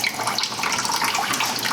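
Water gurgling and splashing as it drains from a clogged sink garbage disposal, a continuous, fairly loud bubbling trickle with irregular splashy bursts close by.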